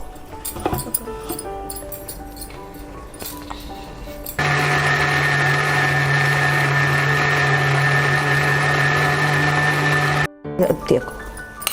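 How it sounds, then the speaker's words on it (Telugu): A kitchen mixer grinder grinds coconut with a loud, steady electric whine that runs for about six seconds; someone talks beforehand and clatter follows. "ముందు ఈ కొబ్బరిని మిక్సీ పట్టుకుంటున్నాను నేను"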